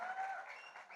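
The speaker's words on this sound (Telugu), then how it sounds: "ఒకసారి గట్టిగా చప్పట్లు ఫర్ ద డైరెక్టర్." An audience applauds the director at a film trailer release event for Satyabhama. The clapping is a steady, dense crowd sound that lasts the whole second and fades slightly toward the end.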